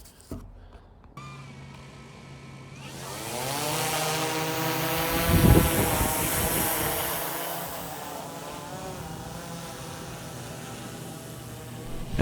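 A camera drone flies in a backyard, its buzzing rotor whine starting up, swelling louder as it lifts and passes near, then holding a steady drone with no speech.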